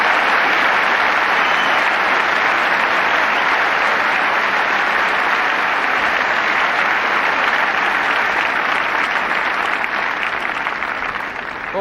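Sustained, dense applause from a large crowd at a 1985 Wimbledon grass-court tennis match, loud and steady for the full stretch without letup.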